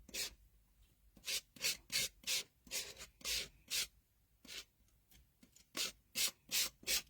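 Spatula dragged over a stencil to scrape excess stencil paste into the corners, a series of short scraping strokes, close and distinct, in irregular bursts with brief pauses.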